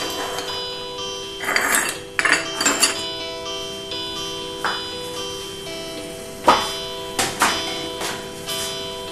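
Metal utensils clink and tap against a pot while herbal kadha with ginger and turmeric is mixed: a scatter of sharp, irregular knocks over a faint steady hum.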